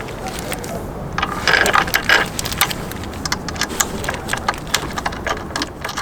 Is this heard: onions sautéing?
no